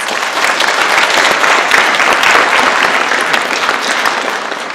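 An audience applauds panelists at a food and agriculture education event, a dense, steady burst of clapping that fills the room without pause, loud and close, with no speech over it.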